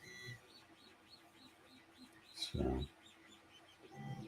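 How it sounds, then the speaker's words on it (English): Small birds chirp in a repeated series of short, high tweets heard in the background, with a brief spoken word and faint room noise mixed in. "the birds chirping"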